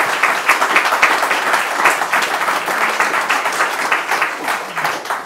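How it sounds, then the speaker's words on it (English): An audience applauds at a conference event, a steady wash of many hands clapping at close range for the whole stretch, without speech over it. "They're applauding."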